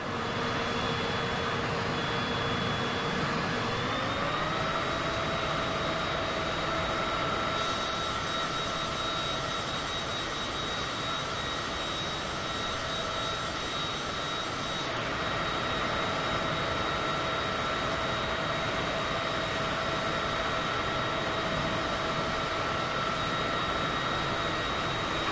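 Cessna C25C jet engine drones steadily in flight, a continuous broadband roar topped by a sustained high whine that rises in pitch once early on, then holds level, with no voices.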